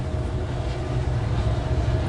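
A train rolls past as a steady, low rumbling drone with a faint hum above it, continuous and moderately loud throughout, with no voices.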